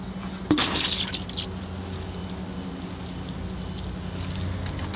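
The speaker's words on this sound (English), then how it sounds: "And give them a water." Water poured onto freshly planted acorns in topsoil pots, a quick splash and trickle at first, then a faint soft patter fading into background hiss.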